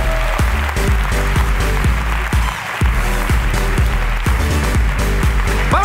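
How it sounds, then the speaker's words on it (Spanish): Audience applause at a live comedy podcast recording, dense clapping over a low rumbling band with repeated sliding tones, steady and fairly loud throughout. "¡Aplauso para la ruina de Montse!"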